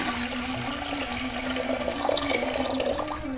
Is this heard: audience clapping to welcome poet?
no